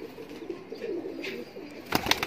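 A Teddy pigeon gives soft, low cooing close by, with a few brief sharper sounds near the end.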